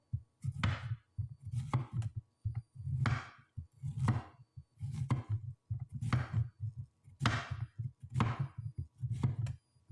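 Vegetables being chopped for a stir fry, a steady series of crisp knife strokes landing on a board at close range, each cut with a soft thud and a brief slicing swish, with no talking.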